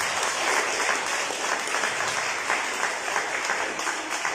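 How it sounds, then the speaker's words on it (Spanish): A church congregation applauds during a sermon, continuous, dense clapping from many hands filling the room, steady and fairly loud throughout. "Denle un gran aplauso"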